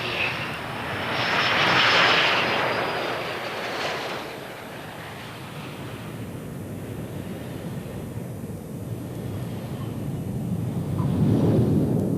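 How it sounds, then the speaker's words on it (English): Jet aircraft of an aerobatic display team making a formation landing at an international air tattoo in 1993, a loud roar swelling early then settling into a steady rumbling drone that builds again at the end. "for Team Aguirre it's the formation landing with the rear element touching down first"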